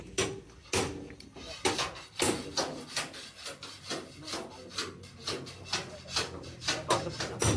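Metal being scraped by hand at a freshly cut section of a vehicle near the gearbox opening, prepared for welding; repeated rasping strokes in an uneven rhythm, close and moderately loud, with faint voices in the background.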